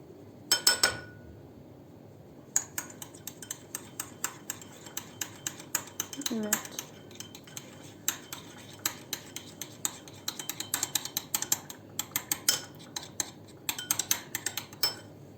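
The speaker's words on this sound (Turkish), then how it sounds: "yumurta sarımızı da pekmezle karıştırdığımız yumurta sarımızı da ekleyelim" Egg yolk is beaten with grape molasses in a bowl to glaze poğaça pastries, a quick run of light spoon clinks and taps against the bowl that starts and stops in bursts.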